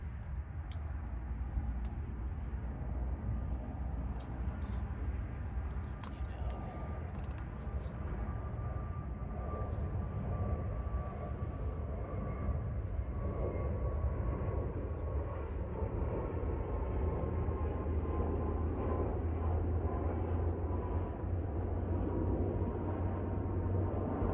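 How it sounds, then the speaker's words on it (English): A fixed-wing aircraft passing on the landing path near O'Hare airport, heard outdoors in a state park as a faint, steady low rumble and whine, with scattered light clicks over it and no talk. "Few aircraft around here. We're kind of on the O'Hare"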